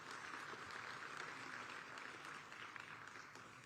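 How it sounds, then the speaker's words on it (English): An audience at an evening ceremony in Addis Ababa claps for an arriving ambassador, a faint, continuous patter of applause heard from a distance. "Let's give her a round of applause."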